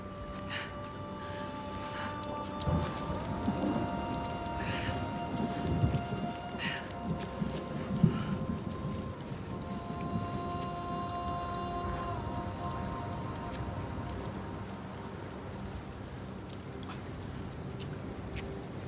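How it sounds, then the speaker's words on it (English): Heavy rain in the video game Senua's Saga, a dense steady hiss of downpour with scattered drops and low rumbles underneath, accompanied by faint sustained tonal drones. "look at the sheets of rain"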